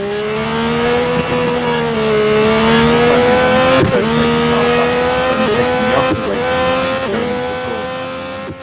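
Race car engines roar in the Real Racing 3 mobile game at the Singapore F1 event, one loud car held at a steady high pitch with rising and falling revs and quick gear-shift dips, other cars faintly around it, no voices.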